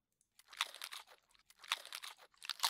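A character eating food in Winter Survival Simulator, three clusters of close crisp crunching and chewing separated by short silences, fairly quiet with no voices.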